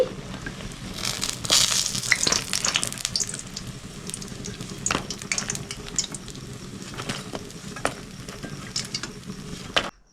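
Bok flower fritters frying in hot oil and being lifted out, heard as steady sizzling broken by sharp clinks and scrapes of the utensil, close and moderately loud throughout.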